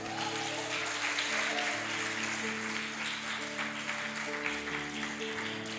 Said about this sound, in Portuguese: Pode aplaudir com fé.